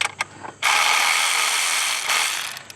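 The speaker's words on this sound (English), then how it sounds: "we're going to be using our AutoGer electric wrench" An AutoGer electric wrench spins out engine cover bolts on a 2004 Acura, a single close mechanical whirring and ratcheting burst of about two seconds after a few light clicks.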